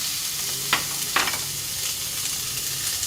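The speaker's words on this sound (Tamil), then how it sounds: "ஒரு பேன் ஹீட் பண்ணிக்கோங்க, கொஞ்சம் ஆயில் வச்சுக்கோங்க, பொடியான இருக்கிற வெங்காயம் போட்டுக்கோங்க" Finely chopped onions frying in hot oil in a pan for a black-eyed pea and potato sabji, a steady loud sizzle with a few brief stirring scrapes.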